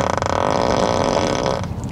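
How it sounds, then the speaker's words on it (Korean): Novelty fart sound effect from a Tesla Model S Plaid's entertainment mode, played loud and close as one sustained, buzzy, flapping blast that ends in a brief tail. "방귀 소리가 나게 메뉴가 생겼어요"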